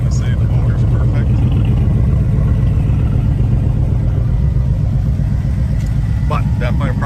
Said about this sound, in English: Runs a little rough. I'm not going to say the motor's perfect.